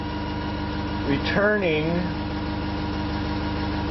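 A ReGen-X motor spinning at 385 RPM while charging batteries, producing a steady mechanical hum with tonal bands throughout, while someone speaks briefly over it in the middle.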